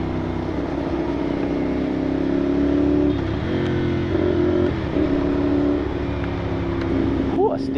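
A GPR250 motorcycle engine revs up through its exhaust and settles in a steady rumble, close and loud, with a sharp rising whine near the end; a voice may be faintly present.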